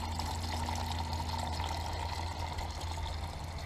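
Water flows steadily into an ebb and flow hydroponic tray holding young plants, a continuous gentle trickling and pouring with a low steady pump hum underneath, nearby and fairly quiet.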